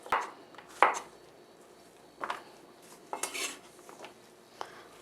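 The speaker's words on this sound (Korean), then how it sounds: "애호박은 이렇게 먹기 좋은 크기로 이렇게 해서 그냥 나박나박 이렇게 썰어 주시면 돼요" A knife cuts zucchini into bite-sized squares on a cutting board for soft tofu stew, giving a few sharp, separate knocks and clacks spaced irregularly, close and fairly quiet, with no voices.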